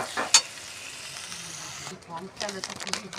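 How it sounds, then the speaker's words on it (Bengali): Ginger, poppy seed, melon seed and green chilli paste fries gently in oil for a vegetarian curry, with a soft steady sizzle, stirring scrapes and a few sharper crackles close by. "ভালো করে তেলের সঙ্গে মিশিয়ে নিই এবং হালকা করে একটু ভেজে নিই"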